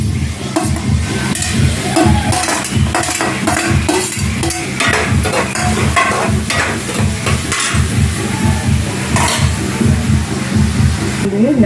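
Onions and green chillies fry and get stirred in a pan for a small fish curry, a steady sizzle with scraping spoon strokes running throughout beneath a talking voice.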